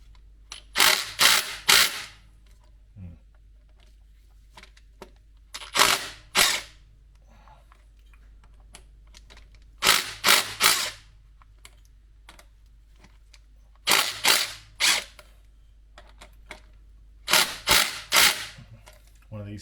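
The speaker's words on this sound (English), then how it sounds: "now I'm going to use my ratchet set to remove that" A hand ratchet works on a bolt on an Alfa Romeo Twin Spark engine during a cam belt job, with sharp clicking bursts repeated in regular groups and short pauses between them.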